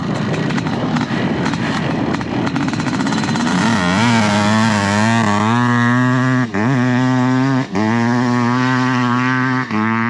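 A 500cc dirt bike engine revs hard and loud nearby, rising in pitch with sharp throttle blips and brief drops, no voices.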